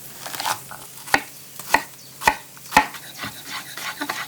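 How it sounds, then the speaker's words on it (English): A knife finely chopping shallot on a chopping board, a handful of sharp distinct thuds spaced about half a second apart, close and clear, with softer taps between. "I'm going to finely chop the shallot"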